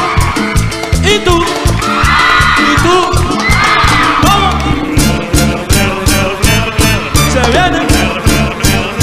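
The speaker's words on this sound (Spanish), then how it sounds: "las mujeres que griten" A loud crowd at a Cuarteto de Córdoba concert, women whooping and yelling over pounding music with a strong steady beat, voices rising together in excited cheers.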